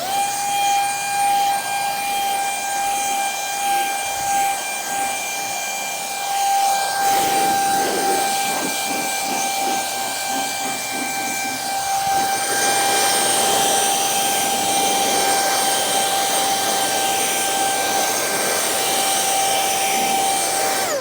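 A Ryobi One HP brushless compact cordless blower drying a car, a steady high-pitched whine and rushing air throughout, the airflow shifting and swelling midway as it moves across surfaces.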